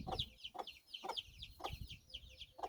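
Several chickens cluck close by in short repeated bursts, a fairly quiet, busy barnyard chatter with no talking.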